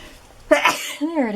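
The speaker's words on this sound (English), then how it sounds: "Oh, I feel a sneeze coming." A single sneeze bursts out sharply at close range after a quiet pause, followed by a short voiced exhale, all within a moment of otherwise near-silence.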